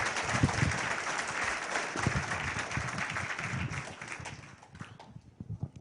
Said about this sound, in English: a very loud round of applause to a very powerful man, Dr. Stephen Greer